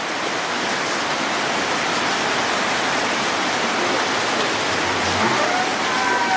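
Rain falls on a wet day at a cattle farm in Raniganj, a dense, even hiss that holds steady and fairly loud throughout.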